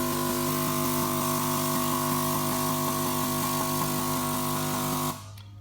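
A VitiSort optical sorter by Key Technology runs a test cycling through all 128 ejector valves, producing a dense mechanical hum with rapid, regular pneumatic ticking layered on top, loud and continuous until it stops abruptly near the end.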